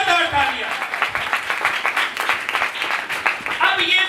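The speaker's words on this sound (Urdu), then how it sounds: "زوردار تالیاں بجائیں" A church congregation at a Palm Sunday service clapping loudly in uneven bursts while a preacher's voice carries over the applause.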